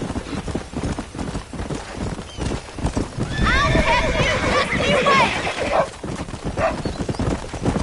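A horse gallops with steady clip-clopping hooves in the video game Red Dead Redemption, letting out a loud neigh in the middle, while someone talks over the ride.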